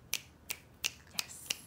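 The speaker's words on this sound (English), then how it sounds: "finger snaps" Five crisp finger snaps in a classroom, used in place of applause after students present their poems, spaced evenly about a third of a second apart and heard alone.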